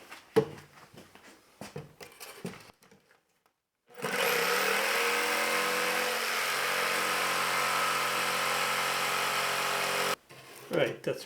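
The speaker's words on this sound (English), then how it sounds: "I'm switching over to the jigsaw to do the cuts that have a bit of curvature or difficult to get to." Jigsaw cutting curved cuts in wood for shop ring frames, one continuous buzzing run of about six seconds, loud and near, with a speaking voice and handling noises before and after.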